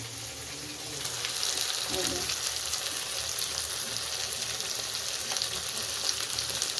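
Goat head pieces and cauliflower, coated in turmeric, fry in hot oil with a loud, continuous sizzle that swells slightly after the first second, close up and steady, with occasional stirring noises.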